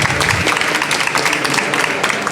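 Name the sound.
audience applause welcoming the next team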